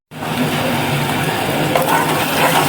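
Spice masala frying in a pan for a thin meat curry made with green chilies, a steady dense sizzle with faint scraping from stirring, close and loud from start to end.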